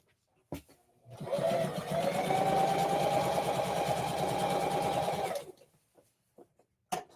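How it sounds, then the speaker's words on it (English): A sewing machine runs for about four seconds with a steady, close mechanical whir as it stitches down the edge of a skirt made from one meter of fabric. Brief handling clicks come before and after. "I'm just sewing the edge right here down."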